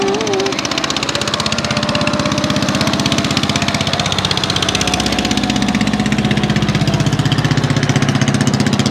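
A fishing net boat's engine runs steadily, a loud, close, rhythmic mid-pitched thrumming like a small diesel idling, continuous with no talk over it.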